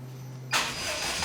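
A truck engine starts: after a brief low hum, the engine catches abruptly and settles into a loud, broadband running roar that carries on to the end, close by and with no voices.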